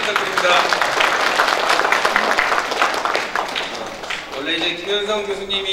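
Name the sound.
audience applause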